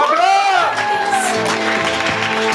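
An open mic poetry crowd claps, whoops and cheers, with shouting voices on top of the applause.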